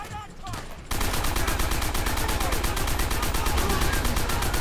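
A mounted machine gun fires in Call of Duty: World at War, a loud, rapid, evenly spaced stream of shots that starts abruptly after a brief moment of voices and keeps going without pause.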